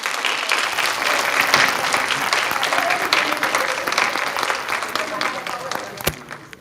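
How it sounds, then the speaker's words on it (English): An audience at a dementia-support laughter event welcomes comedian Angela Verges with a big, dense round of applause that holds steady for several seconds and then tapers off, ending with a sharp knock. "Angela with a great big hand clap."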